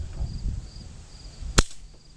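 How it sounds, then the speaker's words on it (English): A Victor No. 1 long spring foot-hold trap fires once, its jaws snapping shut in a single sharp, close metallic crack after a moment of quiet rustling. "we're going to depress this pan and fire this trap"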